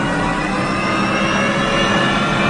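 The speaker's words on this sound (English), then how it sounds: "First, the small accessory engine. Then, the gas turbine." A 1958 GM Firebird III's small accessory engine and gas turbine start up, a loud steady broadband turbine roar and whine that fills the clip without pause, close and alone.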